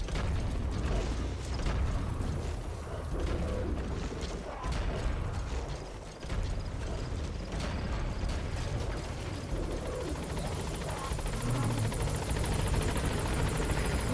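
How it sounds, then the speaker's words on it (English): The support helicopter arrives in the Metal Gear Solid V video game with a loud, continuous rotor chop and engine roar filling the whole stretch, along with a few mechanical creaks and clanks. "Support helicopter has arrived."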